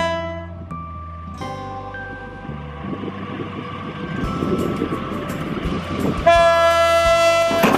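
A toy model of a KAI CC201 locomotive plays a steady electronic melody of sustained tones with engine-like rumble underneath, ending in a brighter, louder horn-like chord.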